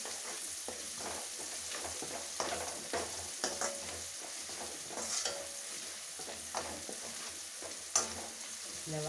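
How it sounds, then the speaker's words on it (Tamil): Onions sauté in a pan for a wedding-style vatha kuzhambu, giving a soft continuous sizzle with occasional stirring scrapes and light clinks, fairly quiet and without talk. "இந்த வெங்காயம் வதங்கதான் கொஞ்சம் டைம் எடுக்கும்."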